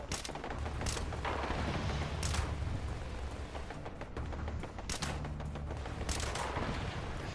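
Incoming gunfire during a battle in the video game Fallout 76. Scattered sharp shots and bursts crack over a steady background rumble, fairly faint and spaced a second or more apart.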